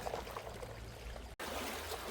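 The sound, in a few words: wading through sea water along rocky shore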